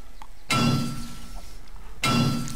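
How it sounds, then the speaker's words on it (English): A drinking glass knocks against a microphone twice, each hit a loud, close, broadband thump with a ringing tail, the two impacts about a second and a half apart against a low indoor hum. "Sorry for smacking the mic with my glass there."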